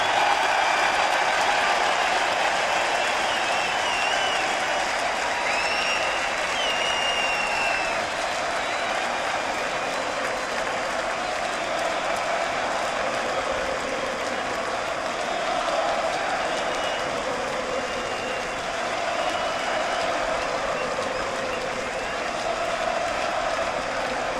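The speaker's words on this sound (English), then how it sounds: "the biggest cheer of the day when your name was called up there" A stadium crowd roars and applauds as South Africa's Test cricket captain is announced, a broad, sustained wash of cheering that carries on for over twenty seconds with little change.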